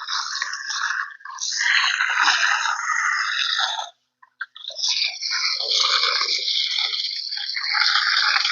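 Water from a running motor pump gushes out steadily onto dung-coated ground, a broad continuous splashing rush that cuts off briefly midway with a couple of spurts before flowing strongly again.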